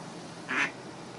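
One short, nasal duck quack rises briefly over a steady outdoor hiss, with no other calls nearby.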